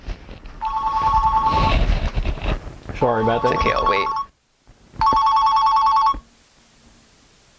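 A mobile phone rings during a radio show in bursts of a bright repeating electronic tone, loud and close, with people talking over and between the rings.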